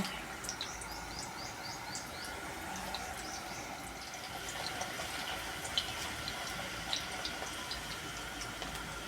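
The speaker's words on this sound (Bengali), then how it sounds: "এবার আমি একটা একটা করে চিপস কিন্তু তেলের মধ্যে ছাড়বো" Potato chips frying a few at a time in hot oil in a wok over a low gas flame, giving a steady, continuous sizzle and crackle with faint high chirps throughout.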